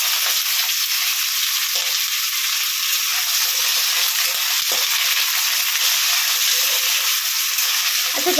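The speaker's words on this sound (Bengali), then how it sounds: "কড়াইতে একটুখানি জিরে আর তেজপাতা ফোড়ন দিয়ে নিয়েছি, আর এই এখন সবজিগুলো এর মধ্যে দিয়ে দেবো।" Vegetables hitting hot oil in a kadai already tempered with cumin seeds and bay leaf, giving a loud, steady, close sizzle that fills the whole stretch with no talking.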